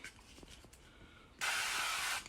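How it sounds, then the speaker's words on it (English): A can of canola oil cooking spray hisses into a pan in one continuous burst of just under a second, close and loud after quiet room tone. "We're going to take our pan here and we're just going to do a quick spray with some canola oil."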